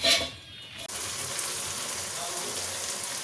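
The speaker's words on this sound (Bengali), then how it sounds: "তো চলো আগে ভেজে নিই" Paneer, potato and capsicum hit hot oil in a wok, and a loud, steady sizzle starts abruptly after a short quiet moment, then continues close and even.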